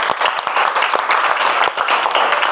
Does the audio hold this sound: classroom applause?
yes